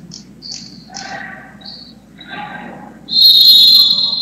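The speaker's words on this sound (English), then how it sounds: "and a whistle" A referee's whistle cuts through a high school basketball game, with short chirps early and a sharp, sustained loud blast near the end over faint gym ambience.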